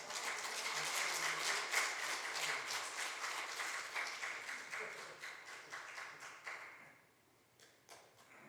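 A church congregation at a Sunday service in Houston applauds steadily, a soft, fairly distant patter of many hands that holds for several seconds and then dies away to a few scattered claps.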